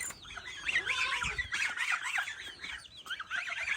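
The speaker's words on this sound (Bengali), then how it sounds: "এই যে দেশি মুরগি এইটাও মুরগি" Native hens on a farm cluck and squawk in quick, busy bursts, close by and fairly loud, with several birds calling over one another.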